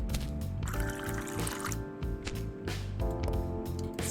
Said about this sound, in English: Two drops of milk. 1 shot of whiskey.